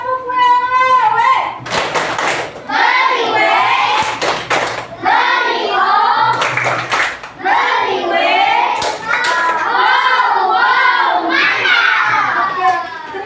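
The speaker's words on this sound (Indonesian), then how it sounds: "kita beri tepuk wewe dulu untuk pekerjaan kita semua" Schoolchildren in a third-grade classroom perform a chanted 'tepuk wewe' class clap, loud rhythmic clapping bursts mixed with shouted chanting voices throughout.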